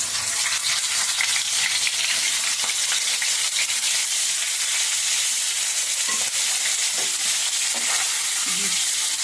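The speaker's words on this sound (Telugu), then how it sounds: "ఇలాగైతే చక్కగా వేయించుతానండి ఎర్రగొచ్చేదాకా" Food frying in a pan until it turns reddish gives a loud, continuous close sizzle with occasional faint stirring knocks, and no one speaks.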